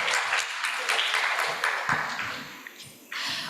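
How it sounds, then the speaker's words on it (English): Warm applause from a conference audience at a medical sciences conference, a full burst of clapping that fades over a few seconds and then gives way to a brief tone. "let's give a warm applause for our speaker and our group."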